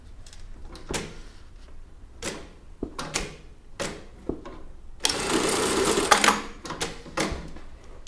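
A sewing machine stitches a bartack on a child's top: short clattering bursts and clicks up close, then one longer, denser run of rapid stitching before a few final taps.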